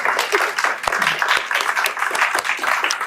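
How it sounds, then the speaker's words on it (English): A crowd applauds in a dense, lively burst of clapping, fairly close and loud, with individual claps poking through the steady rush. "Please, another round of applause."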